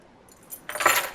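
A bunch of keys jangles briefly and close by, a bright metallic shake that swells near the end.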